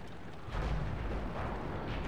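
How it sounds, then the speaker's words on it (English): Nashorn tank destroyer's gun firing in World of Tanks, a deep booming blast with a rumbling tail that fills the whole stretch, loud and close with no talking. "I'm able to fire another shot into the side of a T-34"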